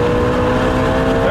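A sports car engine roars loudly and steadily at high revs on a race track, a brief sustained burst of engine noise close by.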